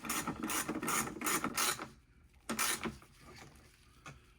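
Headlight lens fasteners being tightened on a C6 Corvette, bursts of rapid ratcheting clicks, a brief pause, then a shorter burst and a faint final click, close and loud.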